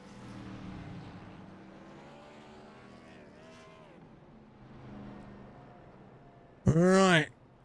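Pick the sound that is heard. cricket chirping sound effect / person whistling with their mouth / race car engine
race car engine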